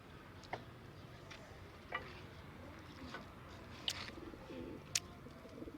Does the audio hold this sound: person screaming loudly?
no